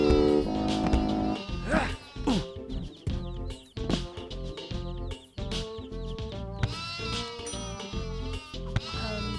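Sheep bleat over busy game music and sound effects in the Shrek Extra Large video game, the wavering calls rising above a dense, loud backdrop.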